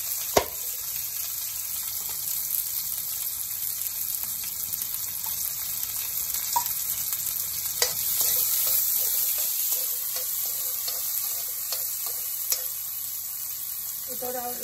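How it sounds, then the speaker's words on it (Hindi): Onion, ginger and green chili hit hot oil with bay leaf, cloves and cardamom for khichdi, giving a steady close sizzle with occasional stirring clinks throughout. "इसमें प्याज अदरक मिर्ची जो काट के रखे हैं उसको डाल देंगे"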